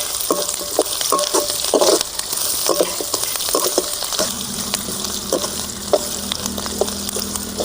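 Onions frying in a pan for a river dry fish curry, a bright steady sizzle with bursts of crackling and stirring scrapes close by, shifting to a lower even hiss partway through.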